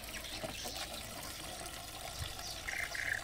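River water being poured out to drink, a soft, steady trickle and splash of water running alone for a few seconds at moderate to low level.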